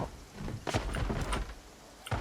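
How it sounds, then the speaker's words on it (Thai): In the zombie survival game Project Zomboid, a wooden door bangs and thuds shut several times in a row, the loud knocks and scrapes heard close and over steady background noise. "ปิดประตูปิดประตูโอเค"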